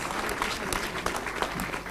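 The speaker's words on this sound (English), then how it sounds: "I want you to clap for me and everyone that has been active in this process." A crowd at a ceremonial function applauds in a steady, moderately loud wash of clapping hands, unbroken for nearly two seconds.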